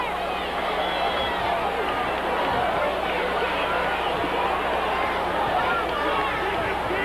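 Crowd noise fills a 1980 Memphis wrestling arena: a constant, dense babble of many voices murmuring and chattering at a steady level, with no single voice standing out.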